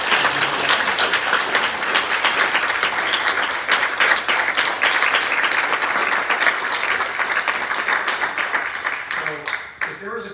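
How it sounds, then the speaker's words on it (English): Sustained applause from the audience at a neighborhood association candidate forum, a dense, steady wash of many hands clapping for about ten seconds with some voices mixed in beneath, thinning at the very end. "Well, let's give a round of applause."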